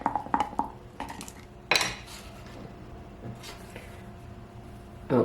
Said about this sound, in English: I'm going to stir this all up